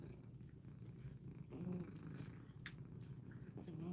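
A cat purrs softly and continuously at close range while waiting to be fed, a faint, steady rumble with no one speaking.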